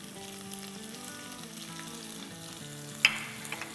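Green chillies fry with caramelized onions in a pan, a steady close sizzle and crackle with one sharp clink of a utensil near the end.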